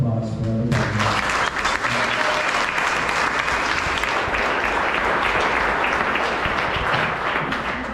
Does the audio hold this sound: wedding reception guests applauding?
yes